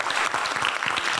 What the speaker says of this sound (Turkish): bir alkış alalım